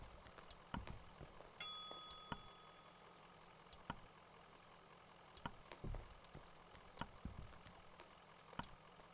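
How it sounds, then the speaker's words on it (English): A bell rings once in the video game Kentucky Route Zero, a clear bright chime that rings on briefly over a quiet backdrop of soft clicks and faint low rumble. "Oh yeah, of course, there's a bell here."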